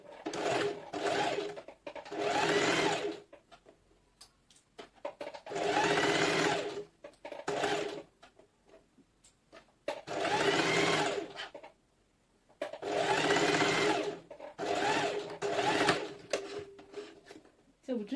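A sewing machine stitches fabric for a one-shoulder dress in repeated bursts of rapid mechanical whirring, each run lasting a second or two with short pauses between, close and clear.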